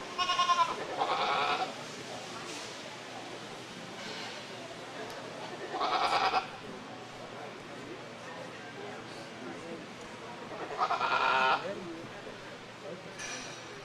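Goats at a county livestock show bleat in several loud, wavering bursts over a constant low murmur of a crowd and barn noise, with pauses between cries.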